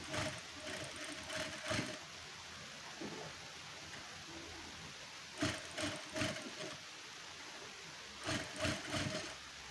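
A sewing machine stitches lace onto a blouse in three short runs of rapid whirring separated by quiet pauses, fairly close but modest in level, with no talking.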